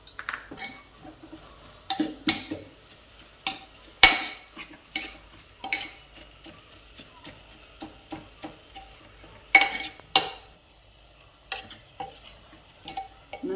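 A spoon scrapes and clinks against a pot in irregular strokes, stirring a horse gram curry, with a faint sizzle underneath.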